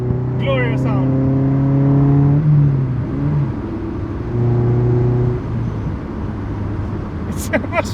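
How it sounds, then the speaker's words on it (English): A Honda S2000 with a VTEC engine revs up close in two loud bursts, the first longer and climbing in pitch, with a quieter idle between them. "this car has a VTEC as well, so it sounds pretty good"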